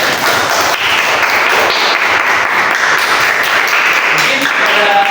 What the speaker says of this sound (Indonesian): Kita berikan tepuk tangan dulu dong untuk Anes.